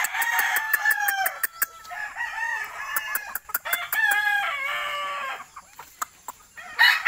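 Young stags crow in a farmyard, several loud, overlapping cock-a-doodle-doos with clucking between them, close and continuous with no talk.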